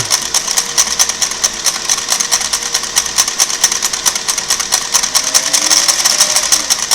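A Singer Model 404 sewing machine stitches through a towel, its needle producing a rapid, even, mechanical clatter up close that runs steadily throughout without any talking.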